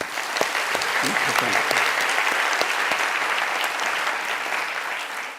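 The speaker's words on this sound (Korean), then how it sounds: "박수 한번 쳐줘요." A church or seminary audience applauds during a sermon, with dense, steady clapping filling the whole stretch at fairly close range and a voice briefly heard early on.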